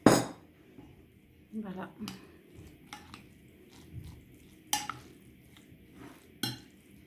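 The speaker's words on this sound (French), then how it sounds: "Et je mélange bien le tout." Tuna, salt and a cracked egg mixed in a bowl, with a spoon clinking and scraping against the sides in scattered strokes, close and fairly quiet, with a brief spoken word.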